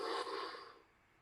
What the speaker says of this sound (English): We start with a deep inhale